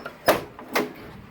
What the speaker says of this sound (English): Alright, let me open the door.